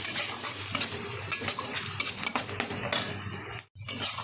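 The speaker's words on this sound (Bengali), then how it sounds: "এবার ভালোভাবে তেলের সাথে কষিয়ে নেব।" Spices with salt and a little sugar are stir-fried in oil for an egg curry. A loud, close sizzle carries constant scraping and metallic clinks of a spatula against the pan, with no voices.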